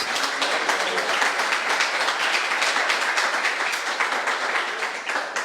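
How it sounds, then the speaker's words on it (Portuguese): A church congregation claps and applauds continuously for several seconds, a dense, even wash of hand claps filling the room. "Dá uma salva de palmas ao Senhor Jesus."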